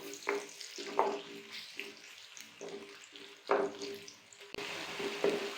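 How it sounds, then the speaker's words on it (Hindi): Onion with ginger-garlic paste frying in a pan for a potato and egg curry, a steady sizzle broken by repeated bursts of stirring and scraping, with a water-like hiss running throughout. "प्याज और अदरक लहसुन का पेस्ट फ्राई हो चुका है।"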